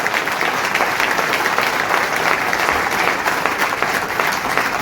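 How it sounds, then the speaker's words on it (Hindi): Loud, dense standing applause fills a hall at a traders' gathering in Bareilly, steady and sustained throughout with no voices standing out over the clapping. "मैं चाहूंगा कि पूरा सदन एक बार जोरदार खड़े होकर के तालियां बजाए"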